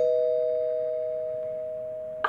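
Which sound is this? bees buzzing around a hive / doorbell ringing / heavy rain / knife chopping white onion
doorbell ringing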